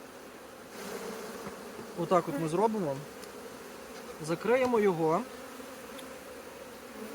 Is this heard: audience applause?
no